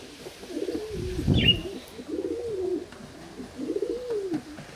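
Pigeons on a rain-soaked balcony give low, rolling coos in three repeated phrases, close by, with a brief flutter or rustle between the first calls.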